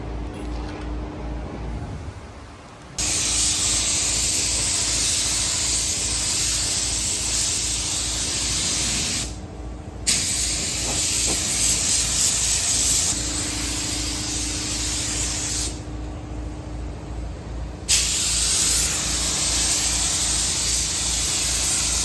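Spray gun applying a coat of red paint to a 1965 C30 dually truck, a loud steady hiss that runs almost continuously and breaks off in two short pauses between passes.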